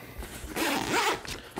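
A zipper being pulled along the big pocket of a rifle bag gives one close, rasping zip of a bit over half a second, with faint handling noise around it.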